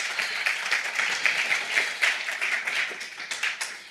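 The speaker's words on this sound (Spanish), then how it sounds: "un aplauso para ellos para esta última sesión de esta jornada" An audience at a university conference session in Colombia applauds steadily for about four seconds, a dense, even patter of many hands at moderate volume, with no talking over it.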